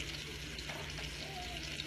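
Scallops frying in a pan over medium-high heat give a steady, soft sizzle with faint crackle, continuous and close throughout.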